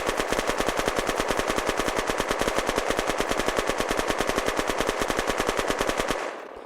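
Zubeknakov assault rifle in the video game Unturned fired on full auto, a rapid, even stream of loud shots lasting about six seconds before stopping abruptly with a short tail.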